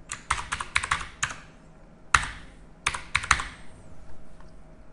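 Someone types a username and password on a computer keyboard for a trading platform login, producing close, crisp key clicks in short irregular bursts separated by pauses, with no talk.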